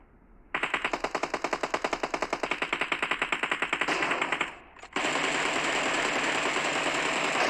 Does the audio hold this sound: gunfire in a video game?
yes